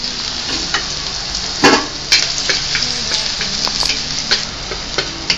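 Onions and tomatoes sizzle steadily in a hot pan for beef kaldereta, a loud, continuous frying hiss broken by occasional scrapes and clacks of a stirring utensil.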